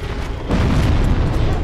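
A fire demon's explosive attack in Dark Souls Remastered lands as a sudden loud boom about halfway through, swelling into a sustained rumbling roar that fills the rest of the moment.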